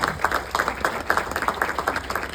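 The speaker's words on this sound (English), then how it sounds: "give her a huge round of applause if you would" An audience breaks into applause, a dense run of hand claps rising and falling steadily, fairly close and continuous, with no voices over it.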